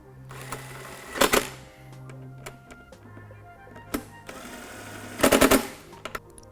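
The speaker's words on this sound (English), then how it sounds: "Then we can get this tightened up with a 10mm socket." Ratchet with a 10mm socket tightening bolts on a Jeep Wrangler JL cold air intake, two short bursts of rapid, close clicking separated by quieter handling sounds.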